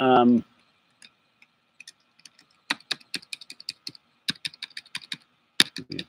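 Clicks from a failing computer keyboard, with sparse single keystrokes that build into quick bursts of close, crisp typing after a short voiced sound at the start.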